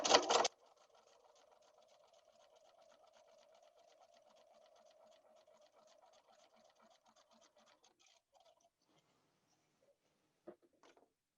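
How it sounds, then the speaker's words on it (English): A sewing machine stitches a quilt block with a quiet, steady rapid whirring for several seconds before stopping, after a brief louder rustle at the start and a small click near the end. "And finish stitching off the edge."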